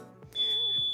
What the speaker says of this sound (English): That was the fire alarm.